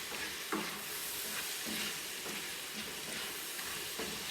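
Korean fried chicken is stirred through sauce in a pan, giving a soft, steady sizzle with a few light scrapes and knocks of the spoon, faint and without talk.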